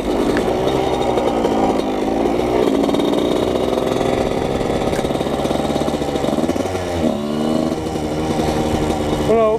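A 125cc motorcycle engine revs hard and steady, a loud buzzing drone that rises and falls in pitch with the throttle and stays close and continuous throughout.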